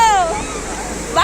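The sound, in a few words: sea wave washing in on the beach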